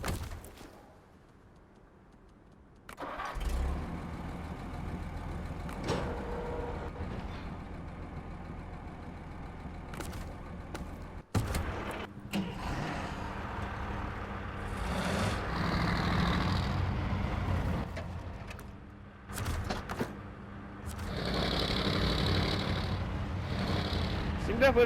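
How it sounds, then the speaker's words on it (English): Diesel engine of a GMC Brigadier truck in SnowRunner, a steady low rumble that starts after a few seconds of near silence and runs throughout, with revs rising and falling and some brief clunks. "Definitely has an engine sound"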